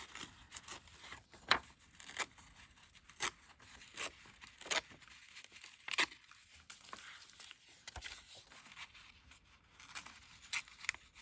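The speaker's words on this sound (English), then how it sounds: "So I'll just tear that side as well." Paper being torn by hand for a junk journal, with soft ripping and crinkling bursts repeated irregularly over several seconds, close and fairly quiet, with no speech.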